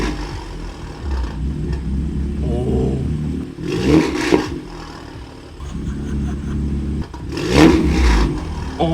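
A BMW M3 with its exhaust valves open idles with a deep, burbling rumble, broken by two sharp blips of revving about four seconds apart. The car is close and loud, and no one speaks over it.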